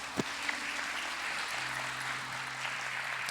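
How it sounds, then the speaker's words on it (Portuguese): A church congregation applauds the reading of the Gospel, a steady wash of many hands clapping at moderate loudness with a couple of sharper claps near the start, no voices over it. "Pode aplaudir a palavra de Deus."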